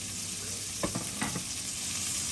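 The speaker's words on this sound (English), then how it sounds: "we are finished frying the steaks, and we're getting ready to saute our onions." Oil sizzles steadily in a frying pan after frying steaks, with a few soft clinks and scrapes of a utensil stirring partway through.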